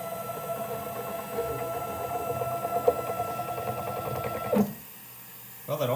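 A homemade CNC mill built from salvaged parts and scrap metal runs a cut with a steady whining, buzzing motor drone. It cuts off abruptly near the end, then briefly starts again.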